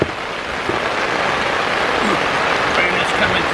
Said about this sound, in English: Rain is coming